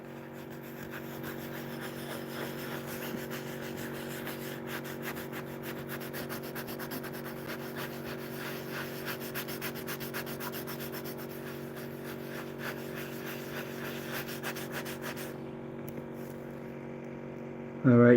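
Auto body glazing compound on car paint is sanded by hand in a steady rubbing rhythm, fairly quiet and close, over a constant low hum that continues until a brief bump at the very end.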